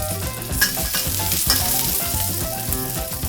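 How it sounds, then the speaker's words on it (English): Garlic and onion fry in hot oil for a tofu stir-fry, giving a steady close sizzle with stirring clatter, over a bed of background music. "Then turn up the heat and add in the garlic. Soon after, add the onion to prevent the garlic from burning."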